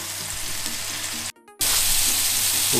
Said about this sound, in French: les pommes commencent à être super bien caramélisées